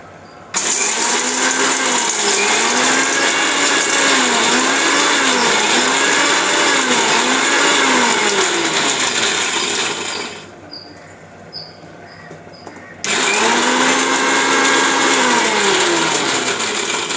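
A kitchen mixer grinder whirs loudly as it grinds tomato, its motor pitch cycling up and down in pulses, stopping for a few seconds before starting again at full strength.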